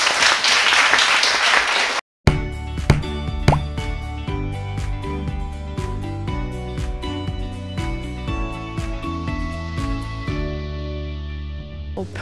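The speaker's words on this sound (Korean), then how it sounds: "여러분 박수 한번 보내주시죠" At a Korean youth social-participation presentation contest, the audience claps for about two seconds as a burst of dense applause. It cuts off abruptly and gives way to plucked, rhythmic music that continues to the end.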